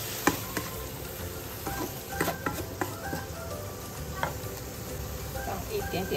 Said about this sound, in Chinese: 油热的把虾米放下去炒